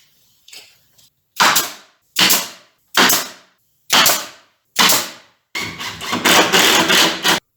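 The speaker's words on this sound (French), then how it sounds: "on va juste pointer avec un petit cloueur les côtés avec les dessus-dessous" A small nail gun tacks wooden cabinet panels together for a wine cabinet, firing sharp, close, evenly spaced bursts, about five single shots and then a longer rattling run.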